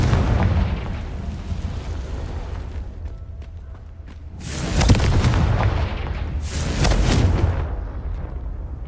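Fire spells blast in the Hogwarts Legacy video game, two loud booming explosions with long rumbling tails over a dense, continuous low background roar.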